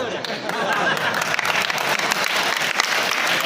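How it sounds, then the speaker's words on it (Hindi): Audience applause at a meeting in a hall, steady dense clapping from many hands that holds at an even, fairly loud level throughout. "आपसे मैंने ताली भी बजवा ली।"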